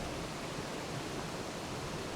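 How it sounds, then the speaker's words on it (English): A waterfall pours in a steady, even hiss of rushing water that fills the whole stretch without a break, with no voices. "Listen to the sounds of the waterfall."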